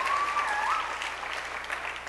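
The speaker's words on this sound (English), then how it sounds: "Round of applause for Lendy." Steady applause from a school assembly crowd welcoming a child named Lendy to the front, a dense even wash of clapping with a faint whistle-like tone near the start.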